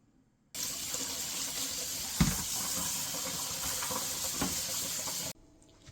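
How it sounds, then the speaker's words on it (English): A kitchen tap runs steadily while fresh basil leaves are washed under it, a continuous close splashing stream lasting about five seconds with a couple of brief louder splashes, then cutting off abruptly. "Now let's get them washed."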